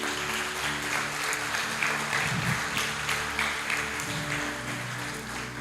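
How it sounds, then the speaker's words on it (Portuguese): Clapping rises from a congregation at a worship service and holds as a soft, continuous patter over several seconds. A faint tonal hum from music or the room lingers underneath. "Você pode aplaudir ao Senhor?"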